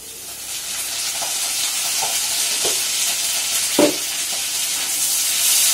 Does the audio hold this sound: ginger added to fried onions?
yes